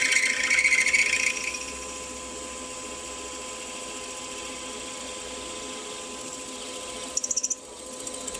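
A drill bit on a Warco WM16B mill opens up a 5 mm tapping drill hole to 6.3 mm, giving a steady high whine at first, then a low running hum with light rattling bursts toward the end.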